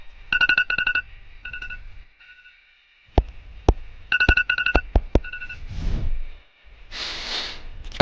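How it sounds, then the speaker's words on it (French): A mobile phone ringtone plays in bursts of bright repeating electronic beeps with sharp clicks between, followed by breathy noise and a short gap. "Ça doit être mon téléphone, faut vraiment que je le change."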